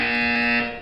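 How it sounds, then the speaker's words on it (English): A steady electronic buzzer drones from a test chamber in the video game Portal 2, one continuous harsh tone that holds level and then begins to fade toward the end, with no voices. "You will hear a buzzer."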